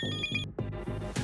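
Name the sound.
phone ringing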